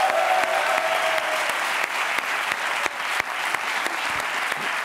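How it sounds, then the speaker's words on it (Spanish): A television studio audience claps in sustained, dense applause, loud and close, holding steady throughout with scattered sharper claps. "Un aplauso para Jorge Ponce"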